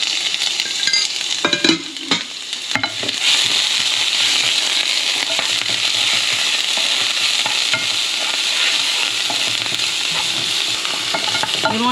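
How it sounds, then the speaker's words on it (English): Ginger, garlic and pepper sizzle loudly in oil in a saute pan, a bright continuous crackle with some stirring clatter early on. "in a saute pan, you want like 2 tablespoons of oil. And you want to add in your aromatic, the ginger, the garlic, and your pepper"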